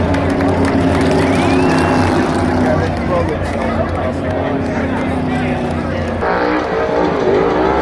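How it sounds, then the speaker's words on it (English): A NASCAR race car doing a burnout at Atlanta after the finish roars loudly and steadily with a droning engine and tyre noise, over a background of crowd babble and voices. "Burnout."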